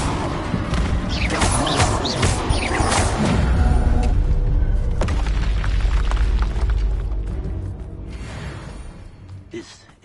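Bombarda and Confringo spell explosions in Hogwarts Legacy combat: heavy booms, whooshes and thuds piled on one another, loud at first and then fading toward the end, with a voice speaking over them.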